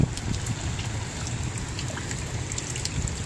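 Rain falls steadily onto a 4000 gallon saltwater pond, a soft, even hiss of drops spattering the water surface, unbroken and alone.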